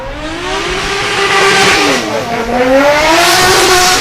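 Drift car at full throttle on track during British Drift Championship Pro-Am qualifying at Buxton, engine note rising and dipping as it slides on opposite lock, loud and close with continuous tyre roar and no voices.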